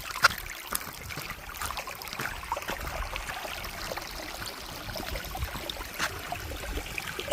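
Fresh water runs down a hill stream in the Idukki hills of Kerala, a steady, even rushing and trickling wash that holds at a constant level throughout, close by and uninterrupted.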